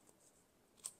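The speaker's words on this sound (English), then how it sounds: "cut around the pattern that's already there" A single quiet snip of scissors cutting out swirling patterned paper elements for a collage, faint and close, with soft rustle before it.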